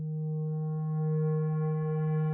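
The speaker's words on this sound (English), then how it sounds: "Let's add some distortion, and we can see and hear the hard edges being applied to the phase of the waveform" A steady synthesizer tone with strong, buzzy upper harmonics, sounding harsh and distorted, holding at a constant pitch and level.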